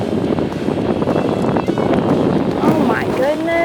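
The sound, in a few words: wind blowing on the golf course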